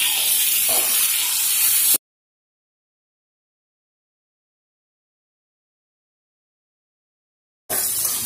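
Tomatoes frying in a pan for home-style fish curry give a steady hiss for about two seconds, then a long silence before the sizzle briefly returns.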